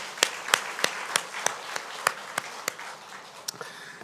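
Scattered, sparse claps from a church congregation, about a dozen sharp separate hand claps spaced unevenly over a few seconds with a low room murmur underneath, fading toward the end.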